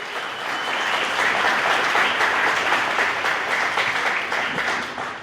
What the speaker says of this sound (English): I want to give a big round of applause to those amazing organizations